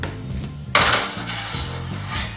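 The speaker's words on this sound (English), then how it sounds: "put it on the stove, put the dates in the water" A pot of water lands on a kitchen stove with a sharp metallic clank, followed by lighter scraping and rattling of cookware, close and clear with no voices.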